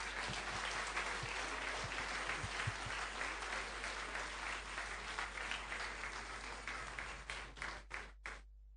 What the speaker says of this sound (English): Let's clap him some more.